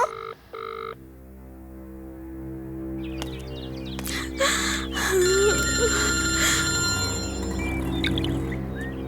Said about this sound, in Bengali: আমার মা ফোন করছে।